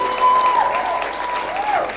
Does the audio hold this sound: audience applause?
yes